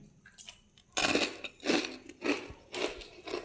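Crunching bites and chewing of crispy puffed flattened rice (aval pori), several loud close crunches in irregular succession over soft mouth sounds.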